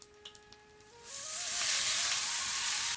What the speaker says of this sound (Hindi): अब मैं ये काटे हुए राई के पत्ते भी डाल लूँगी कढ़ाई में